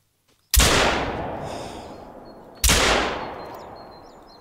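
Two loud shotgun blasts in the hunting game The Hunter: Call of the Wild, about two seconds apart, each a sharp crack followed by a long rolling echo that fades out.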